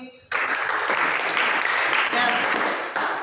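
Children in a religious discourse session clap together, a dense, steady burst of group applause that starts abruptly and holds loudly for a few seconds, with a brief dip near the end.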